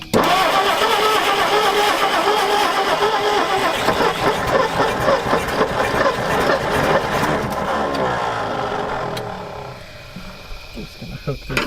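An old panel truck abandoned for about 40 years cranks and roars loudly to life, its rough engine running unevenly and close by for several seconds before settling toward a lower idle.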